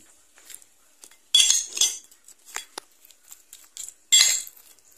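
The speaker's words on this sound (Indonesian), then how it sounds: "Sekarang si Abah akan aduk batagornya" Batagor dressed with peanut sauce and sweet soy sauce is stirred with cutlery on a plate, giving a series of light metallic clinks and scrapes, two louder bursts standing out against quiet gaps.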